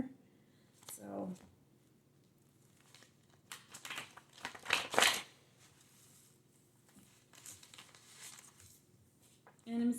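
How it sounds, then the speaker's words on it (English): A hefty deck of tarot cards is shuffled in a few short papery riffles and crinkling bursts, the loudest cluster near the middle, separated by quiet pauses with a voice around them. "this deck is getting a little bit hefty and the shuffling just isn't really up to par anymore"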